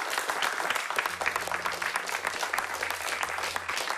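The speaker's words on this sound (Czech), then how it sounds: "prosím vás, zatleskejme těmhle třem hrdinkám" A studio audience claps steadily for several seconds, a dense, even patter of many hands under a faint low hum.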